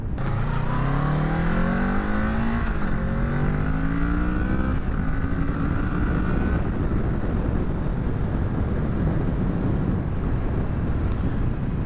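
A 2021 Kawasaki Z650 naked motorcycle engine revs and climbs through gears while riding, its rising tones loud and close over heavy, steady wind rush.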